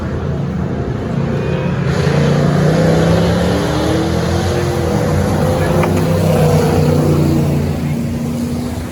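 Off-road race vehicle engines at the 24 Hours of Les Mullets 2022 race, a steady loud motor roar that rises and swells as a vehicle pulls off, with droning engine tone throughout and no talk.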